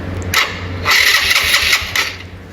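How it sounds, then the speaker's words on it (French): A motorcycle engine is cranked by its electric starter in repeated short bursts, the motor catching and revving briefly each time before dropping back to a low idle, close and fairly loud. "vous allez démarrer la moto"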